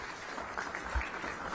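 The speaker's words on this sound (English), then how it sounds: "Round of applause," A conference audience applauds a keynote speaker at an aerospace and defense event, brief continuous clapping at a moderate, even level.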